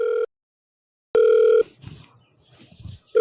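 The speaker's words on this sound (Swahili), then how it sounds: "Inaita." A telephone ringing tone sounds on a call: a steady electronic purr cuts off, returns after a pause for about half a second, then starts again at the end, with faint rustling in the gaps.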